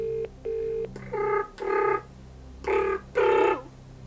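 Touch-tone telephone dialing from the Who Wants to be a Millionaire video game: a series of about six clear, loud electronic dial tones, the later ones longer and richer, played alone with short gaps.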